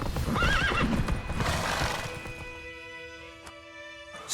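The horse Roach in The Witcher 3 whinnies loudly and shakily, with hoof clops and gear rattle under a busy game soundscape, then fading to quieter ambience with a few knocks.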